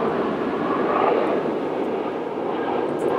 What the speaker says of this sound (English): airplane.